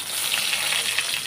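Whole cumin seeds sizzling in hot white cooking oil, a close, steady crackling fry with small bright pops, alone with no voices.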